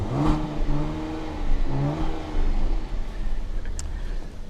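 A 2017 Cadillac CTS V-Sport turbo engine in track mode revs up and settles back, a muffled, steady mid-pitched drone that swells and rises near the start, close and fairly loud, with nobody speaking.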